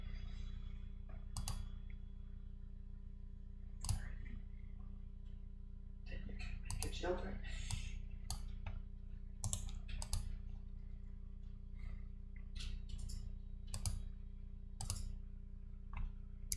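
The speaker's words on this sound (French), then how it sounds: "le micro est un peu proche du clavier" A computer keyboard is typed on close to the microphone during a live coding session, giving scattered soft clicks and short bursts of keystrokes over a steady low hum, with irregular pauses between them.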